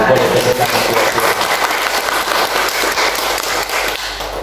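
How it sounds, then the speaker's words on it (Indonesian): A church congregation clapping during a Thursday worship service, a dense continuous wash of claps that stays loud throughout, with voices mixed in underneath. "Boleh tepuk tangan buat Tuhan."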